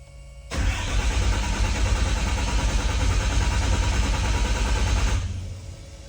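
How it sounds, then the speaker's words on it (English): A car engine starts on the starter and settles into a steady, loud idle that runs for about five seconds, then fades off and cuts out. "let me crank it again for you guys."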